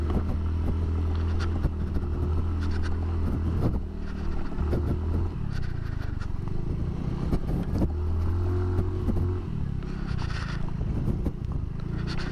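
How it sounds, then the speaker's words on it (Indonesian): A 2020 Suzuki Nex Crossover motorcycle rides over a damaged, rough road, its small engine droning steadily and loudly throughout, with brief shifts in pitch as the rider eases off and accelerates, plus occasional rattles and bumps. "Ini sih nggak khawatir sih jalan seperti ini buat dilintasi Suzuki NX crossover"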